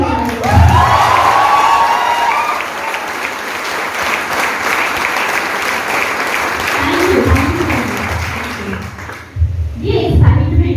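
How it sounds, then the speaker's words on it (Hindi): Sustained audience clapping with some cheering at a safeshop India training session in a Patna venue, loud and steady for about nine seconds, then a brief pause before voices and renewed noise return. "एक बार फिर से ताली बजाइए।"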